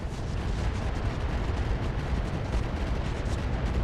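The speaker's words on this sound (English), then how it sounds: "Just the MRMs. Firing on target." Medium-range missiles launching in a RogueTech mech battle: a continuous heavy roar of rumbling rocket fire and explosions fills the whole stretch at a steady loudness, with no talking.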